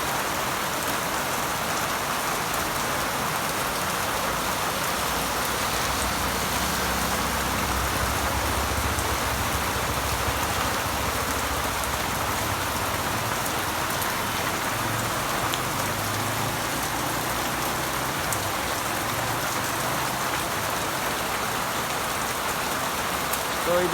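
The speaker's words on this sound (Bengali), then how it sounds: "দেখেছো কত জোরে বৃষ্টি পড়ছে।" Heavy rain pours down steadily for the whole stretch, a dense, continuous roar of drops hitting surfaces close by, with no break or letup.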